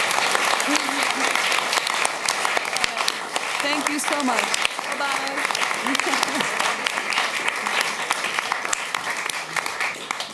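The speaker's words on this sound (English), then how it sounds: "give them, while they're packing up, a very warm applause" Warm, sustained applause from an opera audience fills the whole stretch, dense and steady, with someone speaking briefly over it.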